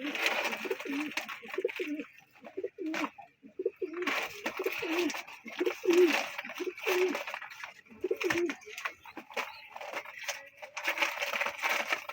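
Pigeons coo repeatedly at a pigeon farm market, soft throaty calls coming in uneven bursts from several birds close by, with rustling and shuffling among them and no talk.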